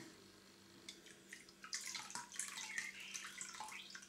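Ginger beer bug liquid, a homemade ginger starter, drains through a cloth held by a rubber band, giving soft irregular drips and trickles that grow busier midway, faint and close with no talk.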